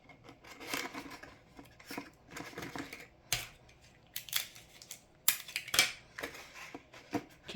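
Strips of tape being pulled and pressed onto a cardboard game box for an Atari cartridge, a series of short quiet rips, rubs and crinkles at an irregular pace.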